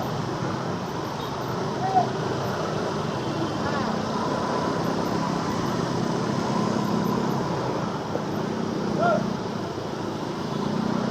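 Steady roadside traffic din from motorcycles and cars on a morning commute between Bekasi and Jakarta, a continuous broadband rumble with brief horn-like blips, close and fairly loud throughout.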